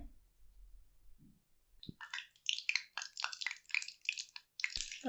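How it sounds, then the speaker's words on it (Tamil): Mustard seeds splutter in hot sesame oil with dense, crackling pops that start after a quiet moment and continue in rapid, close bursts while cooking a mutton gravy. "கடுகு நல்லா பொரியுது."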